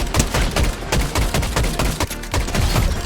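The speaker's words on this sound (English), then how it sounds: "there's a whole lot of gunfire going on" Rapid gunfire in the Fortnite video game crackles in dense, irregular bursts of sharp shots and thuds, loud and close, with no talking over it.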